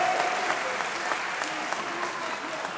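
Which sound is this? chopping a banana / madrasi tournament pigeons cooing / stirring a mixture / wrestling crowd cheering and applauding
wrestling crowd cheering and applauding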